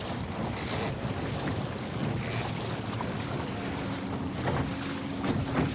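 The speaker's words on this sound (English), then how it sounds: "Get some good wind." Wind gusts roar and buffet across a small Sunfish sailboat on the water, a steady broadband rush with a few sharper bursts of microphone wind noise and no talking.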